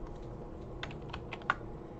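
Soft, close clicks of computer keyboard keys pressed for a Control J shortcut while modeling in Blender, a few light taps in a quiet room.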